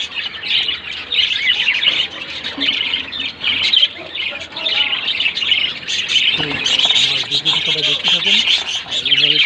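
Budgerigars and their chicks eating corn, a dense, continuous chatter of high chirps and squawks from close by, with brief lower rustling noises partway through.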